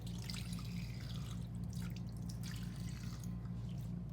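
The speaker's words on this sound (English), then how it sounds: "And you just rinse your hands." Water running from a tap as hands are rinsed under it, a steady close splashing flow with a low hum underneath and no speech.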